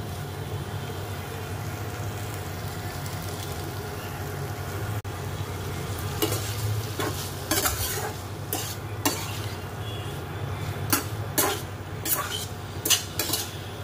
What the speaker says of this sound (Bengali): কষিয়ে নিয়ে জল দিয়ে দেবো।